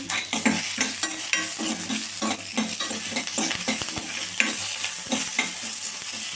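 Urad dal and curry leaves sizzle in hot oil in a pan for a hotel-style chutney, with steady frying hiss and repeated rhythmic scrapes of a spoon stirring.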